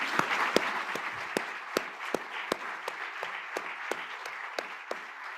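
A room full of listeners at a panel on federal law enforcement and human rights applauds after the presentations: a steady, dense wash of hand claps with a few sharp, louder claps standing out near the front, and no talking.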